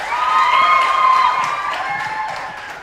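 A crowd at an International Women's Day event cheers and claps to welcome a guest, with high shouts over a clapping wash that slowly tapers.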